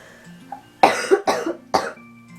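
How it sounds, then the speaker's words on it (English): Three harsh coughs from a person getting over a cold, in quick succession, close and distinct, after a brief throat sound, with quiet background otherwise. "I need to cough"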